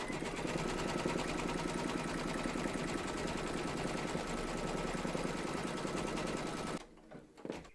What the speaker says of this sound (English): Pop your hoop in and then stitch round number 7, and that's going to give you your placement outline for your batting